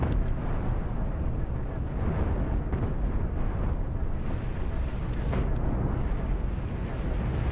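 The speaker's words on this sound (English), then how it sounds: "You got the nukes going off. You get the ion beams cutting through really well." Nukes go off and ion beams fire in a space battle in the game Cosmoteer, heard as a dense, continuous rumbling roar of blasts that stays loud and even throughout, with no distinct single bang standing out.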